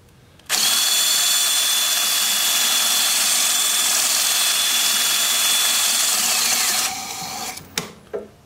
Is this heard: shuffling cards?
no